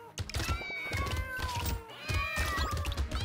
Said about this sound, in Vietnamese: Đánh toàn tiếng mèo kêu thôi.